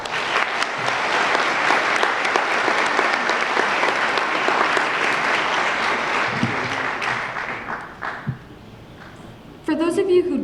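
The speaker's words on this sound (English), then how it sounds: "Give a round of applause for everyone who made this year a successful and fun year for all of us." Loud, sustained applause fills the hall at a middle school promotion ceremony, many hands clapping steadily for several seconds before dying away, followed by a brief voice near the end.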